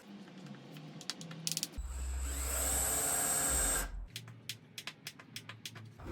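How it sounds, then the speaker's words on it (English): A power drill drives screws into the wooden runners of a table saw sled, one sustained whirring run of about two seconds, with scattered clicks and taps of handling before and after. "Now I'm ready to actually install some screws."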